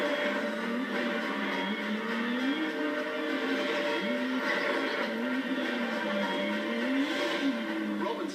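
Trophy trucks and buggies race across the outback at the Finke Desert Race, a steady engine drone with rising and falling whines of revving motors carrying throughout, continuous and fairly loud.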